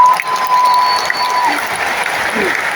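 Large Christmas congregation at a Tiberias Indonesia church service in a stadium applauding, a broad sustained wash of clapping from a huge crowd, with a faint tone lingering over it.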